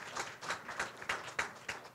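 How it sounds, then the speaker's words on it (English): A small audience at a pier signing ceremony claps in a sparse, uneven rhythm of roughly seven distinct bursts, fairly light and thin rather than a full roar. "Could you give the bank a round of applause?"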